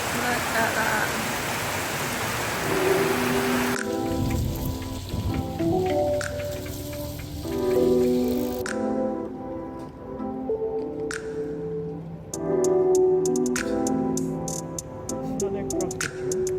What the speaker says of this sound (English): We just got caught in an absolute tropical downpour.